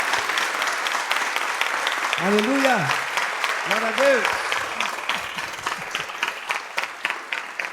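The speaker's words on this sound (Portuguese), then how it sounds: "Uma salva de palmas," A church congress crowd claps in a thick, continuous round of applause while someone shouts joyful exclamations over it, the clapping staying steady and gradually thinning toward the end.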